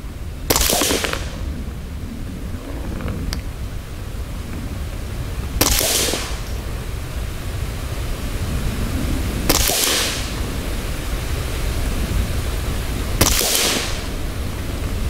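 Four sharp .22 rifle shots from a Ruger 10/22 fitted with a McGowen barrel, firing CCI Standard subsonic ammunition at a target, spaced several seconds apart over steady outdoor background noise, with no talk.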